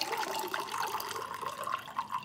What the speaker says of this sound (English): I'm just going to take my Hawthorne strainer and pour that out of there